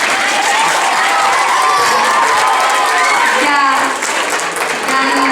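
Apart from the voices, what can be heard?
applause from school students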